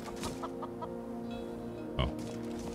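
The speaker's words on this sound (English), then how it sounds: "That's some chickens? Where?" Chickens on a small farm in Skyrim Anniversary Edition, several short rhythmic clucks up close over a steady musical background hum, then a brief thump near the end, with no voices over it.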